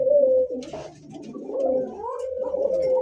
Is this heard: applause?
no